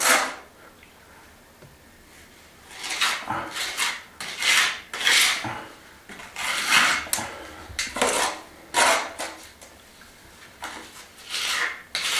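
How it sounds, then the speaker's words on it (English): Metal scraper dragged along a stone farmhouse wall to fill narrow gaps with filler: irregular close scraping and rasping strokes, some sharp and some softer, spread across the whole stretch with short pauses between them. "I'm just using a scraper to fill this in because it's quite narrow."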